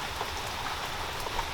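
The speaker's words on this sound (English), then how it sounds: "It's raining out right now, which is great. A nice calm rain." A calm rain falls outdoors, a soft, steady patter of drops on surfaces continuing without pause.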